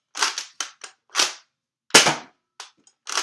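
Sharp, dry snaps from a toy blaster called the Apollo come in irregular succession, each a brief cracking burst close up, with a few quieter clicks between shots.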